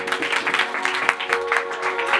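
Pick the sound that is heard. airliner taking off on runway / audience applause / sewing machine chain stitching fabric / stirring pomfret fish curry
audience applause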